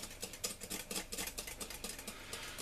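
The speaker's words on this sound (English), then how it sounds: "Now that it's gone in, whisk in still more." A whisk beats vanilla and brandy into an advocaat mixture in quick, even strokes, a soft rhythmic swishing and tapping against the bowl, faint and close with no voices.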